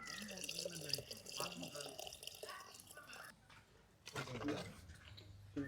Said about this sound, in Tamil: நம்ம பீட்ரூட்டை ஊற்றி காய வச்ச தண்ணியை சேர்த்துக்கலாம்.